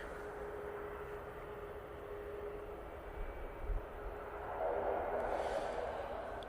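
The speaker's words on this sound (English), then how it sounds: "Ryanair 73 going off to Santander now, using the 737 MAX 8." A Ryanair Boeing 737 MAX 8 taking off for Santander, its engines a steady broad roar at a distance that swells louder toward the end, with no voices.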